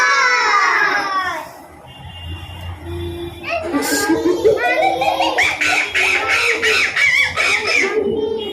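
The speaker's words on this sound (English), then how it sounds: "Monkey." A recorded monkey call plays in a kindergarten classroom, opening with a wavering cry and then breaking into a rapid, repeated series of sharp, chattering shrieks, with voices in the room alongside.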